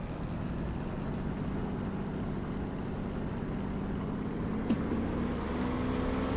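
A Supermarine Spitfire Mk IV piston engine in DCS World idles as a steady, low, droning rumble, unchanging and fairly loud, with no voices over it.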